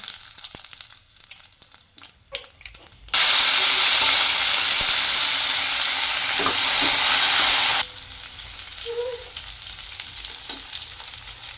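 Mustard seeds and grated coconut hit hot oil with a sudden loud, steady sizzle that roars for about five seconds before dropping back to a quieter crackle with light clinks, while aubergine curry is being prepared.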